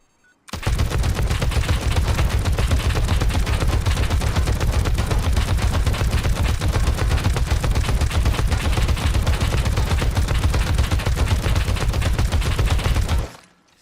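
The Python turret in Rust fires one long, unbroken burst of rapid gunfire for about thirteen seconds, loud and dense, before stopping abruptly.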